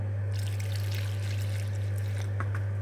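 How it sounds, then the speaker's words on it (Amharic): Plain water is poured into bread dough made of flour and a little salt, a soft continuous trickle at close range. A steady low electrical hum runs underneath the whole time. "እዚህ ጋር ኖርማል ውሃ ነው።"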